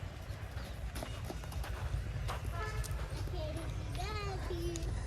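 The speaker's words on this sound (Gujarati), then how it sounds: "જો હે ઘોડા છે હા ઘોડામાં બેસાડે" Horse hooves clip-clop steadily at a park horse ride in Mahuva's Gandhi Bagh garden, set against a busy background of children's voices and bird-like chirps.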